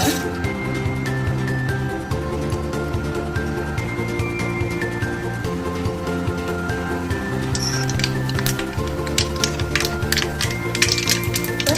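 Mustard seeds splutter in hot oil while bitter gourd stir-fry is being made, a dense, irregular crackle of sharp pops like rapid typing, heard over steady background music.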